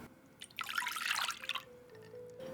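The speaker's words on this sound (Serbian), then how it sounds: "Sipat ću u vanglicu 280 ml mlakog mleka." Lukewarm milk, 280 ml, poured from a container into a small mixing bowl in a home kitchen, a soft close liquid splash lasting under a second amid quiet room tone.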